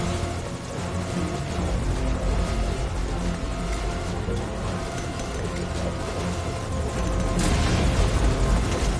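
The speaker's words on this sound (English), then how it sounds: "Now get in the chopper." A video game helicopter roars continuously with dense rotor thrum and engine whine, loud and close for the whole stretch, swelling slightly near the end.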